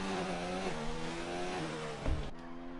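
A race car engine screams at high revs on a hot qualifying lap around Baku in an F1 video game, a steady harmonic whine that dips briefly with a gear change and a short burst near the end, with no voices.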